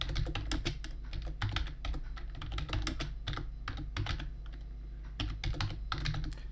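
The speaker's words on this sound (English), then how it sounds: "in the search bar in the top right, you just want to type the words Google Language Translator." Rapid clicking keystrokes on a computer keyboard, close and distinct, coming in quick irregular bursts with short pauses between words, with no voices present.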